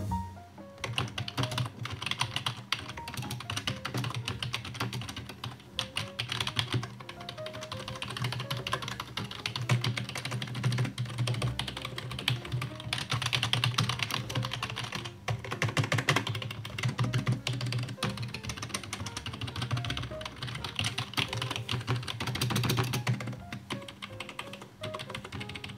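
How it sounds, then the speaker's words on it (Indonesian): Typing on a compact, budget Robot RK10 keyboard with quiet keystroke switches, a continuous close run of soft muted key taps in quick irregular rhythm, no voices. "Robot mengklaim bahwa keyboard mereka ini yang RK10 adalah keyboard silent click, atau mereka bilangnya quiet keystroke."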